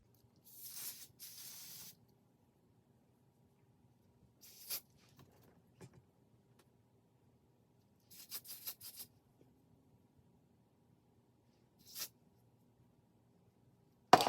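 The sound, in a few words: Kiss Lace Adhesive Spray being sprayed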